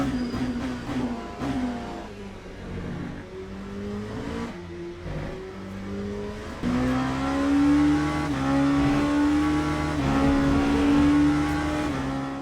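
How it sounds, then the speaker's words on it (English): An ELMS LMP2 race car in Le Mans Ultimate revs through its gears at Silverstone, engine pitch climbing and dropping with each shift, then holding a loud high-revving note on the straight, with no talking. "The ELMS car revs higher than the WEC racer, which results in a different engine note at the top end, of course."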